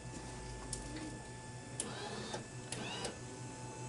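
Mechanical whirring and clicking from a C Series direct-to-garment (DTG) printer loading toward its ready state, a steady hum broken by short, faint clicks and sliding movements.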